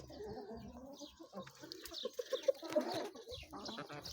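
Several hens cluck and murmur nearby, with a few sharper clucks bunched in the middle and softer chatter around them.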